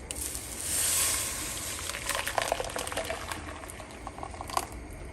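Blended sauce with sour cream poured into a pot of hot oil, giving a soft sizzle and bubbling, with faint splashes and pops throughout.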